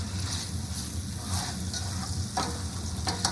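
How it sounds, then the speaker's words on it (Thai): Holy basil (kaphrao) stir-frying in a wok, a steady close sizzle and hiss with scraping stirs and a couple of sharper spatula clacks against the pan, no voices. "ตอนนี้นะคะเราก็จะผัดทุกอย่างรวมกันให้เข้ากันค่ะ"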